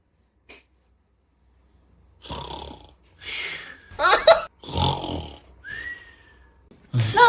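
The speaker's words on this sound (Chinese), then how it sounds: "那你别打呼噜了呀" A person snoring in bed at night, with several loud, rasping snorts in uneven bursts separated by quiet pauses, heard close by.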